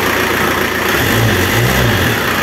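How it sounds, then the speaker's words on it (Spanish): A Renault Kangoo diesel engine fitted with a Bosch VE mechanical injection pump runs loud and close, a steady rough clatter with a low rumble that swells briefly as it revs slightly. "el motor suena igual prácticamente que con la bomba Lucas original"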